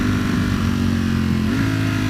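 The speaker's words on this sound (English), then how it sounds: "Oh, the sound of the engine" Ducati Panigale V4S, a 2018 superbike, runs its engine steadily at a loud, close, continuous drone, with a short rise in pitch near the end as it is blipped or accelerated.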